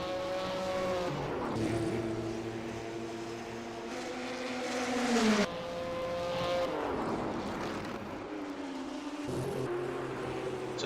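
A 1958 race car at Goodwood's Glover Trophy roars by on the circuit, its engine note rising and falling through gear changes over about eleven seconds, with a second, fainter car sweeping past. There is no talk.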